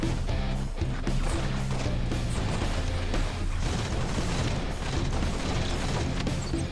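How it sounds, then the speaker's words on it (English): Heavy booming blasts from grenades and combat in a Halo video game, a dense, continuous roar of explosions and low rumble that runs loudly throughout, with wind-like noise over it. "He just threw a grenade."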